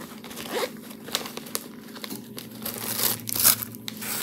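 A zipper is being undone on a small pouch usable as a pencil case, pulled open in short scratchy bursts mixed with plastic crinkling from packaging.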